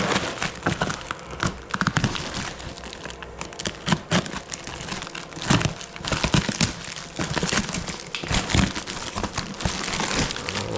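Packaging being torn and crumpled open around a new 4-inch downpipe for a BMW F10 with an N55 engine, continuous close crinkling and ripping with sharp crackles throughout.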